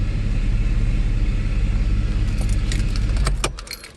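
A Mercedes SL R129 engine with repaired throttle bodies and E-gas module revs loudly and close, a steady deep rumble that holds for about three seconds before dropping away, with light jangling near the end and no talking.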